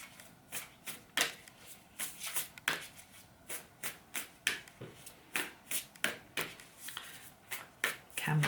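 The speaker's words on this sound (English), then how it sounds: "Let's just pull one other card that goes with it now." Playing cards are shuffled and drawn from a deck during a card reading, a steady run of crisp riffling flutters and soft slaps repeating about twice a second, close and moderately loud with no talking.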